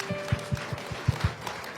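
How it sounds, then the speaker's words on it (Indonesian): Clapping from a church congregation praising Jesus, a handful of distinct, fairly loud claps in a loose rhythm over faint background murmur. "Oke, tepuk tangan dulu buat Tuhan Yesus."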